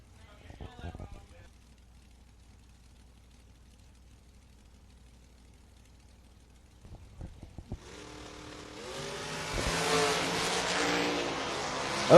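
At a drag racing event, the Coastal Clash, a few faint knocks and low sounds give way to quiet, then cars launch down the strip in a rising roar that swells and stays loud to the end.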